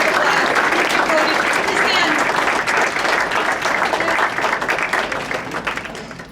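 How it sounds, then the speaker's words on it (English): Sustained applause from a graduation ceremony audience standing to clap, a dense steady patter of many hands that fills the room loudly throughout, easing slightly toward the end, with voices mixed in. "Please stand up for a round of applause"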